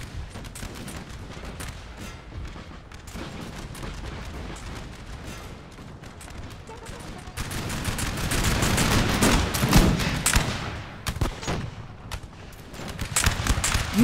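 Dense battle din from Napoleon: Total War during the Battle of Waterloo, with rolling cannon and musket volleys crackling continuously and growing louder and heavier in the second half.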